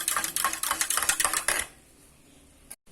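Whisk or spoon beating kremes batter of flour, water and baking powder in a bowl, a quick run of close, rhythmic clinking strokes that stop halfway, leaving near silence.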